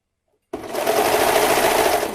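A serger sewing machine stitching elastic on underwear fabric starts abruptly after a moment of silence, then runs as a loud, steady, rapid mechanical whir to the end.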